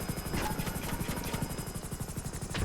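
An Apache AH-64 attack helicopter in GTA hovers close and loud, its rotor thumping in a steady rapid pulse over a constant engine whine, with no talk.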